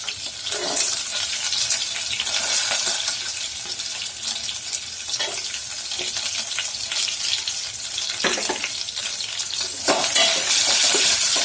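Chopped big onions fry in a pan, a dense, continuous bright sizzle with occasional scraping stirs, close and steady with no talking.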